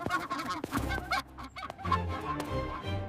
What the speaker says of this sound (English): This goose followed me again!